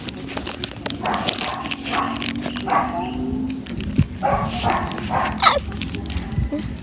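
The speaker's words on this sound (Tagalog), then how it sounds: "Ay, aso." A dog barks a few times amid busy street noise, the yips short and scattered over a steady background hum.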